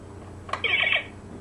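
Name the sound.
toy car time circuits sound effect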